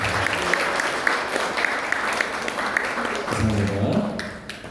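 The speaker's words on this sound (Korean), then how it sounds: "뜨거운 박수 부탁드립니다" Applause from a church congregation at a Korean Baptist deacon ordination service, steady clapping throughout with a brief stretch of voices near the end.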